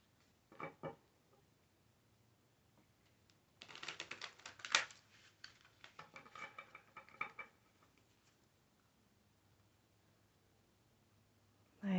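Short bursts of cards riffling and shuffling, a quick flutter early, then a longer rustling run, quiet and close.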